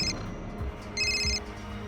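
A telephone rings in a crime drama scene, giving two short bright electronic ring bursts separated by a pause over a low background hum.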